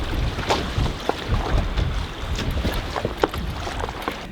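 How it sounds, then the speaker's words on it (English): Strong wind gusts buffet an anchored sailboat at night, with steady rushing noise, flapping and occasional knocks and splashes close by and no talking. "the wind should be this strong all night"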